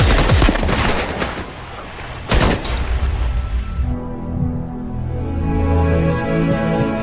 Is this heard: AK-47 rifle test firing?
yes